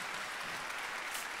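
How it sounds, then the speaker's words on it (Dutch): A church congregation applauds with steady, dense clapping that fills the space, brief and continuous with no pauses. "Laten we hem juichen, klappen."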